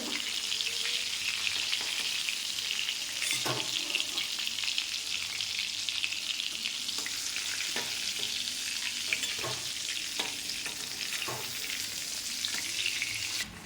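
Lotte fish chops frying in hot oil, a continuous bright sizzle with repeated scraping and clinking as pieces are stirred and lifted out, close by with no talk.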